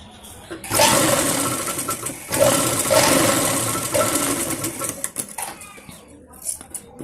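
A sewing machine stitches a bias binding strip onto fabric for a small girl's palazzo outfit, running in steady close bursts with brief pauses and a fading stop near the end.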